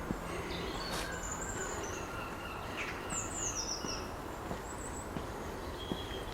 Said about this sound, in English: Oh, this is so beautiful, the birds singing.